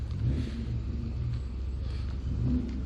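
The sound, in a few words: Elan classic car engine arriving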